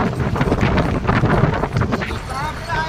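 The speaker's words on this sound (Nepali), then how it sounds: "कति चिसो ढुरी हावा" Cold wind in hill country buffeting a microphone outdoors, a loud, continuous, rough rumble with gusts, with a voice talking over it.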